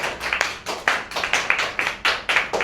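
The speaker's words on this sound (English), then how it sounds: "We can give a big clap for our opposition leaders." A crowd claps for the opposition team at an English debate in Dhaka, Bangladesh. The applause comes in a steady run of sharp, nearby hand claps with some rhythm, loud and without any talk over it.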